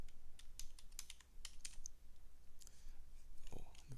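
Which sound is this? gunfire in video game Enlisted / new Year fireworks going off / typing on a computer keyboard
typing on a computer keyboard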